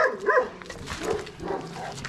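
A Karabaş dog barks and yips a few times close by, sharp excited barks mixed with whiny yelps over a noisy background.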